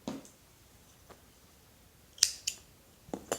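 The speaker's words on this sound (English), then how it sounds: "slip stitch to join at the end of round 3 and then cut the yarn" Scissors snipping through crochet yarn, a few small sharp close clicks spread over a couple of seconds in an otherwise quiet room.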